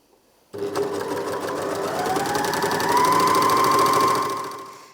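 A Janome MyLock 454D overlocker sews fabric in one continuous, fast mechanical whirr with a rapid stitching rattle, close and steady for about four seconds, its pitch rising slightly as it speeds up before stopping.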